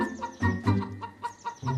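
A rooster kept by a poor village family clucks in a series of short, moderately quiet, uneven calls heard close by, with no talking.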